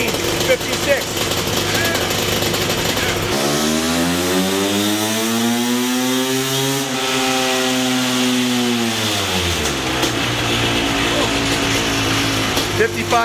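A 500cc two-stroke motocross bike engine screams up through a full pull on a dyno, rising steadily in pitch to a high peak before falling away to a rattling idle, loud and close with people talking faintly nearby.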